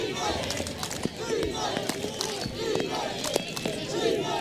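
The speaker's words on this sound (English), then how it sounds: "Richmond crowd trying to will on the defense here" A Richmond home crowd at an NCAA men's lacrosse first-round game in Philadelphia roars and chants steadily to urge on its defense, with rhythmic swelling cheers and a commentator talking over the noise.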